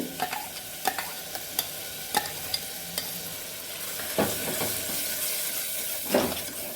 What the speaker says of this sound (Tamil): இப்போ எல்லா மசாலாவையும் போட்டு நம்ம வதக்கிக்கலாம்